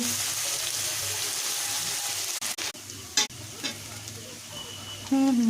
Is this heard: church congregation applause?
no